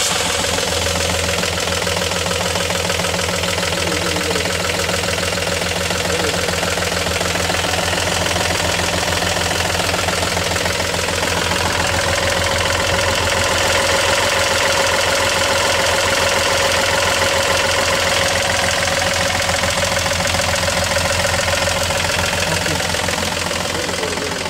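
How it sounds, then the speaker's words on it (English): A sailboat's inboard engine runs steadily at idle, a loud continuous low knocking rumble with a constant tonal hum, close by and alone without talk throughout. "He's starting the engine."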